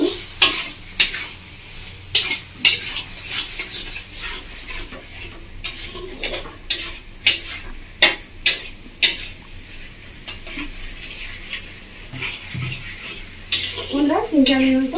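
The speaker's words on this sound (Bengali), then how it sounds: "বন্ধুরা এবার দিয়ে দেবো আমি ভেজে রাখা আলু, আলু দিয়ে ভালো করে কষে নেবো 3-4 মিনিট মতো।" Pre-fried potatoes being stir-fried with spices in a pan for a village-style Bengali giant prawn curry with cashew and poppy seed, a soft sizzle under repeated sharp scrapes and knocks of a spatula, with a voice talking over it.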